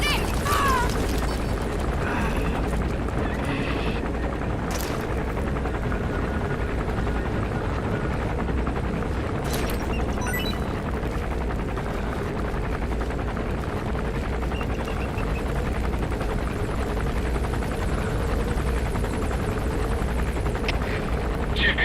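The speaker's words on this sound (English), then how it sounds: "That's an enemy gunship." An enemy gunship helicopter in Metal Gear Solid V: The Phantom Pain keeps up a continuous rotor drone for the whole stretch, with scattered mechanical clanks and faint distant radio-style voices beneath it.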